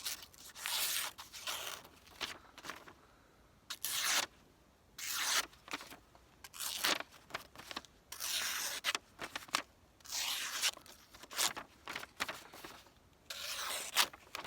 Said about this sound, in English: Honestly, I'm not great at cutting paper, so it is slicing nicely.